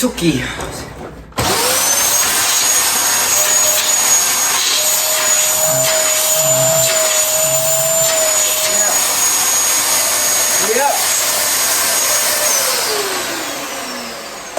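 Dyson DC33 multi floor vacuum cleaner under repair switching on after a brief rustle, then running loud and steady with a high whine close by, and a short voice partway through.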